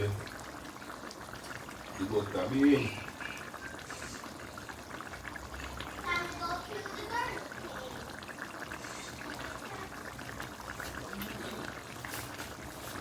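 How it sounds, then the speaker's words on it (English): Water pours and trickles out as butter beans are strained in a kitchen, a soft continuous splashing that swells briefly early on, heard under a person talking. "So I just strain this water off the bean."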